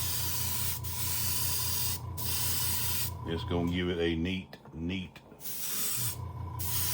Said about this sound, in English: we're going to spray this dude with this Silver Spectrum